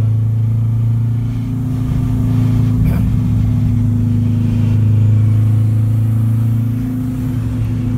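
Renault R5 Turbo engine heard from inside while driving slowly, a loud, deep, steady drone with a strong low hum and slight swells in level, constant throughout with no talk over it.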